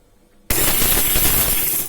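Blender pulsing a mint coriander chutney kicks in abruptly after near silence, a loud, dense close-up whirring grind that runs steadily for over a second.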